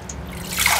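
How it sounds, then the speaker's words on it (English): Water swirls and trickles through a submerged homemade bucket gold classifier, starting as a soft low dribble and swelling into a brighter rushing hiss near the end, heard close and alone. "the water literally does go in and swirl, and once you do that, it really does come out the bottom very good"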